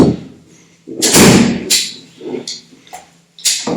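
A German Suhl double-barrel 12-gauge shotgun with 76 cm choked barrels is broken open, giving a close series of heavy metallic clunks and sharp clicks, several distinct thuds over a few seconds with no talking.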